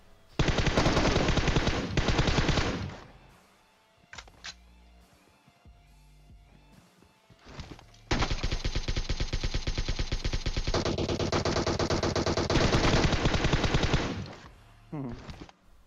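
M416 rifle fire in the PUBG Mobile video game comes in long, loud, rapid automatic bursts. Two sprays are separated by a quieter stretch of scattered shots and game sounds, and the bursts sound close.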